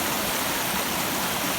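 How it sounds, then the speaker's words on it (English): Heavy rushing white water of a swollen stream in flood flowing down toward Gander Lake, a steady loud broadband roar throughout with no pauses. "massive amount of water moving now right down to Gander Lake."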